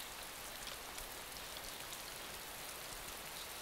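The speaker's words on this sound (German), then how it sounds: "Das ist echt starker Regen" Heavy rain pours in the video game DayZ as a dense, steady hiss of downpour with no break and no voices.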